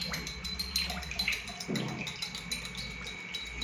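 Water sloshes and splashes as a metal bell is lowered in, with a faint metallic ringing tone lingering above the watery noise.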